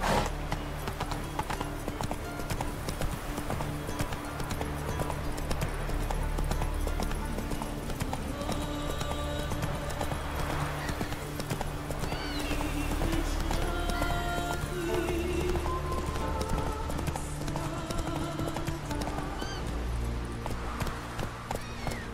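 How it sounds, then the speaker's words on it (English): Horse hooves from The Witcher 3 video game, a rhythmic clip-clop gallop steady throughout amid game music and ambience, with an occasional whinny and some talking. "Whoa there, Roach. What are ye looking at"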